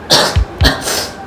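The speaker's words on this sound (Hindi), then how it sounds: "खांसी हुई और खांसी" A person coughing, two sharp, loud bursts close to the microphone in quick succession, with no speech.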